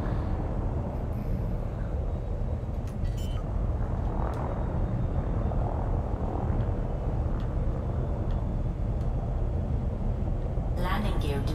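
A spaceship hovers close to the ground in Elite: Dangerous, giving off a steady, dense low engine rumble that fills the whole stretch, with a brief airy hiss near the end.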